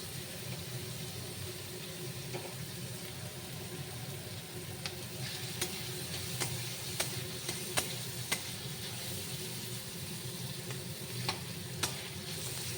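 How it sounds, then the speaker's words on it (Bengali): Raisins and cashews frying in a pan, a quiet, continuous sizzle with scattered sharp ticks and light scrapes from stirring, heard close but faint. "এখন আমি এর মধ্যে দিয়ে দিব কিশমিশ আর কাজু বাদাম"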